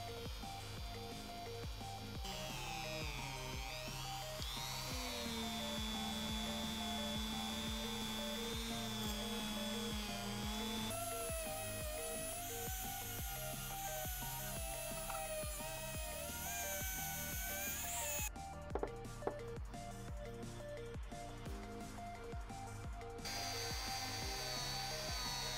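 A small rotary tool spinning a cloth polishing wheel with polishing compound against a carburetor, a steady high whine that shifts in pitch as the load changes, with brief contact scrapes and no talk.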